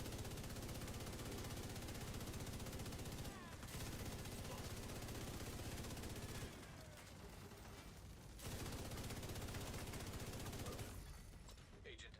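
Rapid bursts of automatic gunfire in a multiplayer shooter match, loud and close, with brief pauses between volleys and voices talking over parts of it.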